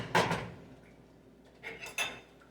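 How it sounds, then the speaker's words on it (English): Creamy cheesy grits are spooned into a bowl, giving a sharp metal spoon clink against the dish at the start. Two more lighter clinks follow near the end, with soft scraping in between. "spoon out some grits"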